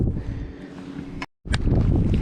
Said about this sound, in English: This wind's kicked up a lot.